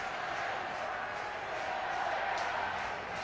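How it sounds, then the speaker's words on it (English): Cardiff Devils fans in an ice hockey arena keep up a dense, steady roar of cheering and applause at a late stage of a game against the Sheffield Steelers, loud and continuous throughout. "The Cardiff Devils fans making all the noise."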